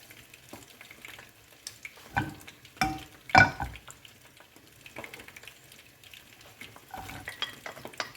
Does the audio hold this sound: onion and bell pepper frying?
yes